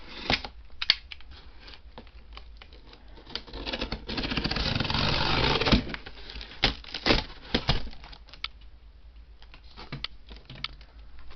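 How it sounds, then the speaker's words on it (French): A parcel is opened, with close crinkling, tearing and rustling of packaging in scattered bursts and a longer stretch of steady scraping in the middle. The room is otherwise quiet and no one speaks. "Je vais commencer par déballer le premier côté, ensuite le deuxième."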